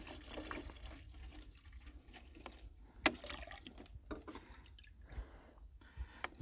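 Diesel fuel drained from an old, abandoned CAT excavator trickles and drips into a container, an irregular quiet splashing with a few sharper drops.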